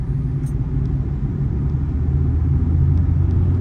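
A car cruises during a road driving test in Doha, Qatar, its engine and road rumble a steady, loud, low drone from inside the cabin with no clear rise in pitch.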